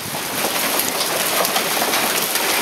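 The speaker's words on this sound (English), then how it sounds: "It's raining. It's hailing." Hail falling on a July 20 afternoon in Phoenix, a dense, steady, loud patter of ice striking surfaces, continuous and without voices throughout.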